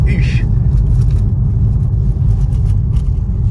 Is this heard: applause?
no